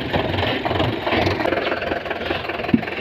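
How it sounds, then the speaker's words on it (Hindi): A Sonalika tractor engine runs with a plough attached, a steady throbbing mid-low drone at moderate distance with slight irregular knocks and one brief thump near the end. "ट्रैक्टर निकल गया है"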